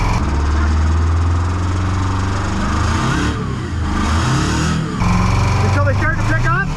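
Old Detroit diesel truck engine cold starting at -42F, a loud, rough, lumpy idle with the revs pulsing up and down, close to the microphone, with someone talking over it.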